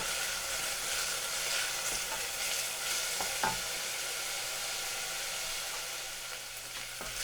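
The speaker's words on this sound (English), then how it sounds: "I want to keep that stirring over medium-high heat until the onions begin to turn translucent" Onions for mushroom risotto sizzle steadily in a pan over medium-high heat, with scraping stirs and a few sharp utensil knocks against the pan over a continuous close frying hiss.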